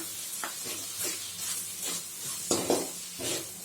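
Tomato tossed into mutton frying with onion in a pan for mutton rava upma, bringing a steady sizzling hiss with periodic stirring scrapes and one sharper clatter partway through.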